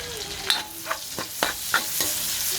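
Garlic and onion sautéing in a pan for pork menudo, a close steady sizzle broken by about six quick stirring scrapes of a utensil.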